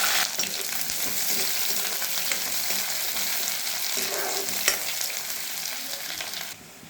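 Onions fry with bay leaves in a hot pan, giving off a loud, steady sizzle broken by occasional stirring scrapes, with no talking.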